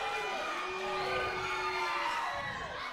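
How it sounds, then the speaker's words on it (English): A wrestling crowd cheers and shouts steadily at a women's match, a dense roar of many voices with children's shouts mixed in, holding loud for the whole stretch. "This crowd coming alive for Lisa Lace with a huge chop to the chest."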